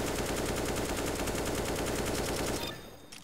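AK-47 automatic fire in CS:GO, a loud, steady rapid burst of shots that runs nearly three seconds before cutting off abruptly, leaving a faint ringing tail.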